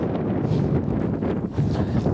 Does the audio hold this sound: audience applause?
no